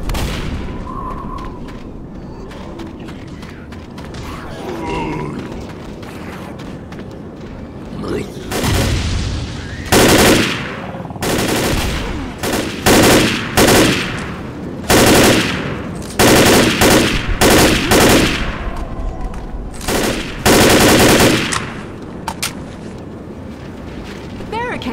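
A mounted machine gun in the zombie shooter Left 4 Dead fires in loud, heavy bursts and long sustained volleys, with booming impacts and talk underneath, after a quieter stretch at the start.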